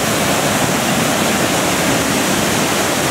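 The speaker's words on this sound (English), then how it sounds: "Look at that waterfall curving across." A curving waterfall plunge roars as a loud, steady, unbroken rush of falling water, close and alone.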